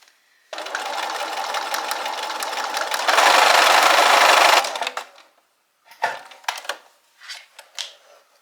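Sewing machine running a zigzag stitch on a fabric book sleeve, a steady mechanical hum for several seconds that speeds up briefly, then stops, followed by short clicks and handling sounds.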